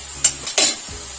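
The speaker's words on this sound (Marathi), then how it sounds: "आता भात टाकून घेते मी इथं" Cooked basmati rice is tipped into a pan of soft, cooked mixed vegetables for veg pulao, giving a couple of short, close scraping and rustling bursts against a quiet background with no talk.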